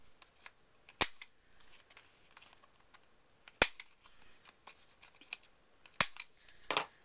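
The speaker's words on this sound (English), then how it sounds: "I'm going to go ahead and round the corners again" A corner rounder punches the corners of a paper card, producing four sharp, close clicks spaced a few seconds apart, with faint handling rustle between them.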